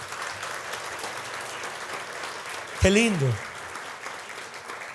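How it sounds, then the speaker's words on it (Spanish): A church congregation applauds in praise of the Lord, a steady wash of clapping throughout, with a voice speaking briefly over it midway. "Denle un aplauso al Señor,"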